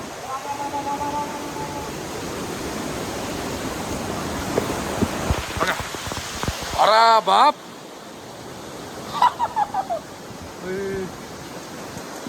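A river in Lonavala rushes with a loud, continuous broadband roar, and people talk and exclaim over it throughout.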